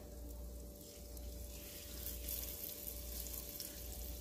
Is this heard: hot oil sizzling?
yes